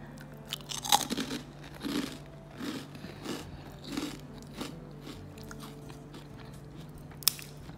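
Crunchy homemade rice crackers (kerupuk nasi) are bitten and chewed close up, with a sharp crisp snap followed by a steady run of brittle crunches that fade gradually, heard alone without talk.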